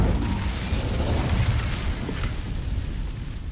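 A fire spell is cast in Hogwarts Legacy, giving a loud, sustained roaring burst of flame with a heavy low rumble that gradually eases off over a few seconds, with no voices over it.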